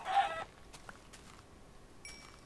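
A Minecraft chicken gives a short, bright cluck at the start, followed by quiet game ambience with a few faint clicks and a thin tone near the end.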